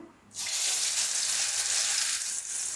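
Sardines (mathi meen) frying crispy in hot oil, a steady loud hiss that swells in after a brief quiet start and holds evenly throughout.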